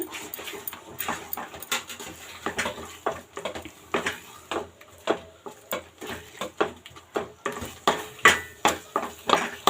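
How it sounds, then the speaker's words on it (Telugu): A spoon scrapes and stirs cashews through thick Bombay Karachi halwa in a pan, the strokes repeating in a steady rhythm, close and moderately loud, with no talking. "నేను జీడిపప్పు వేస్తున్నాను. వేసేసి బాగా కలిపేసుకుందాము"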